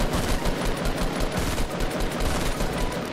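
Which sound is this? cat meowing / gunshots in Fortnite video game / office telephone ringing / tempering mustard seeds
gunshots in Fortnite video game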